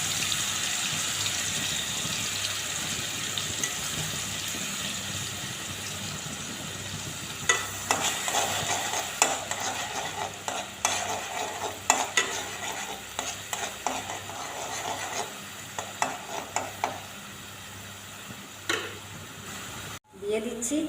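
Onion, garlic and ginger paste frying in mustard oil, a soft steady sizzle under a voice, with scraping stirring strokes growing louder in the second half.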